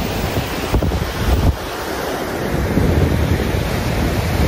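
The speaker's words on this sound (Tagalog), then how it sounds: "Sobrang lakas ng hangin." Loud, roaring wind at an abandoned castle buffets the microphone continuously, a dense rushing noise with a brief dip partway through.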